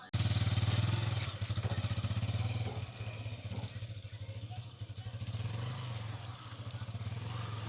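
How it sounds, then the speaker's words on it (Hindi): A motorcycle labors and slips along a potholed, muddy village road in rural Majhauli, its engine chugging steadily and loud up close, dipping slightly as it struggles on, with no talk over it. "ये आप देख रहे हैं बाइक यहाँ से निकल रही है, कितनी मुश्किल से स्लिप होते हुए ये जा रहे हैं"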